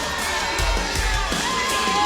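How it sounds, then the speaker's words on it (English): Crowd cheering at a professional wrestling tag team title match, a dense roar of shouts and whoops filling the arena, loud and sustained throughout. "This crowd is unbelievable tonight."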